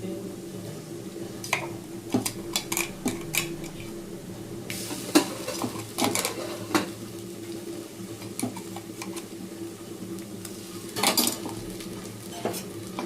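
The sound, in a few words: stirring ginger garlic paste with fried onions in a pan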